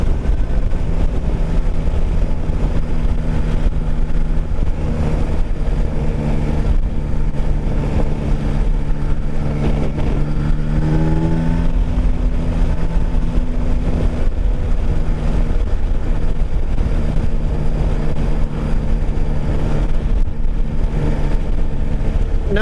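New Yamaha Tracer 9 sport touring motorcycle under way with about 1,500 miles on it: a loud, steady engine drone mixed with wind rush, and the pitch swells and shifts briefly midway.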